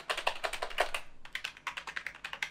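Rapid typing on a Redgear semi-mechanical gaming keyboard, with crisp, close keystrokes in quick irregular runs and a brief pause midway, with no talking.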